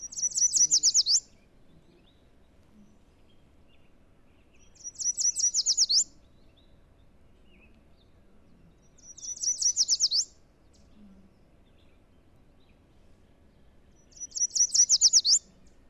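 Four bursts of bright, high warbling yellow warbler song repeat at steady intervals of about four seconds, each phrase short and clear over a quiet background.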